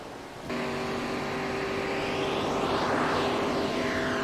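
On-board iRacing race car engine at Daytona, a loud steady roar that swells in as the car launches, holding a sustained drone with rising pitch sweeps and no talking.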